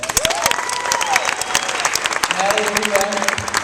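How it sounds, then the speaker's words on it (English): Wedding guests applaud at a reception, a steady burst of clapping mixed with crowd noise and overlapping voices talking nearby. "so we get a round of applause for him"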